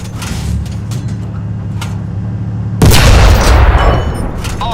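A tank cannon fires in War Thunder: one loud, deep boom about three seconds in, preceded by a steady engine rumble with faint mechanical clanks, the rumble continuing after the shot.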